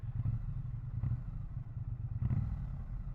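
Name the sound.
Triumph Bonneville T100 motorcycle pea shooter exhaust sound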